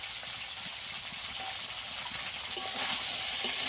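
Green peas frying in oil in a pan for veg dal, a steady close sizzle and hiss that holds throughout with a few small pops, no talking.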